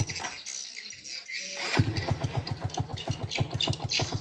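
A Yamaha Jupiter Z1 motorcycle with a misfiring fault starts and idles on the choke without throttle, a steady low rapid thumping pulse after a brief scratchy start, close by.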